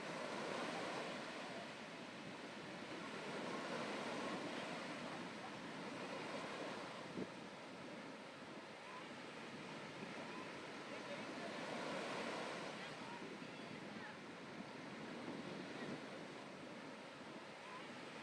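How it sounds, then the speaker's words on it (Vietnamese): Sea waves surge steadily onto My Khe beach, a continuous rushing surf roar with gusts of sea wind buffeting the microphone and gentle swells in loudness, with no voices. "Sóng biển Mỹ Khê 9 giờ 30 vẫn rì rào mạnh mẽ, gió biển hất vào tấm lưng trần"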